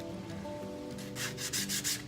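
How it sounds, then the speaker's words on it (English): Rough rhythmic rubbing as sandpaper scrubs a 3D-printed armor part, growing louder in short back-and-forth strokes over a low background hum. "We'll do some more sanding"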